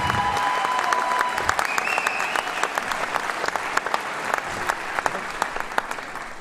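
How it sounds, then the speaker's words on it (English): A crowd applauding four-time state champion athletes at a high school senior night, sustained dense clapping with a few sharper individual claps standing out, continuing evenly throughout. "let's give a round of applause first for that"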